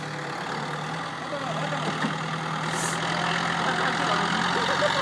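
Tractor engine idling steadily with a low, even hum and faint knocking texture, moderately close and continuous, no talk over it.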